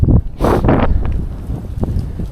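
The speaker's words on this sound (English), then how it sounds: "Whew, it's windy." Gusty wind buffets a microphone on a countryside trail walk, loud bursts of rumbling noise rising and falling, with a few scuffing footstep-like knocks in between.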